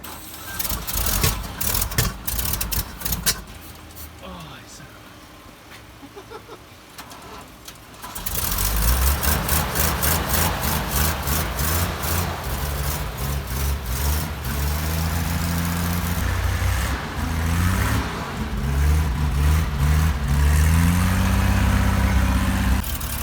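A 1962 International AB110 truck engine fires up after a quiet stretch and keeps running, a loud, steady, rumbling idle with a throbbing low beat that continues to the end.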